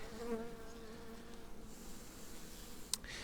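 A dense, steady buzzing of many honeybees close by on hive frames, humming continuously without pause, with a brief sharp tick near the end.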